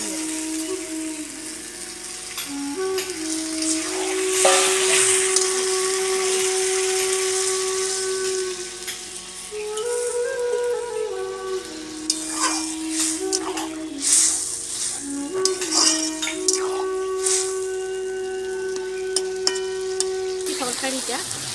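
Kashmiri-style cabbage curry sizzles and hisses in a pan after water is added, with steady frying noise and intermittent scraping stirs throughout, and a voice speaking over parts of it.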